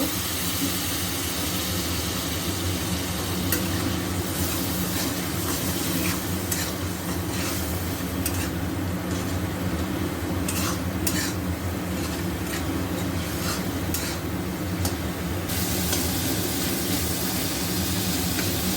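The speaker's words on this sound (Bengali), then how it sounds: "একটু জল দিয়ে হলুদটা ভাজা ভাজা করে নেব" Turmeric with a little water sizzles steadily in a hot pan with repeated scraping and stirring of a utensil, continuous and fairly close, with no voices.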